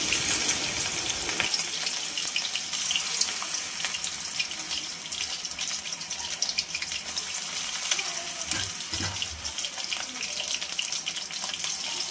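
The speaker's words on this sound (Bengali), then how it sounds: "তেলটা গরম হলে একে একে আমরা বড়াগুলোকে" Steady bubbling and crackling of banana-flower fritters frying in hot oil, continuous and fairly quiet, with no talking.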